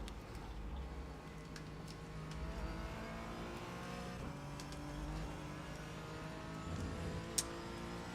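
Aston Martin GT race car in the iRacing simulator at Monza, heard from a Porsche 718 GT4, its engine note rising and falling as it passes, layered over the steady drone of the player's own car.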